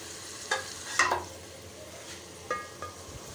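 One kilogram of potatoes, some cut and the small ones whole, tipped into a pan and stirred: a few scraping, clattering stirs over a soft steady sizzle, with no voice.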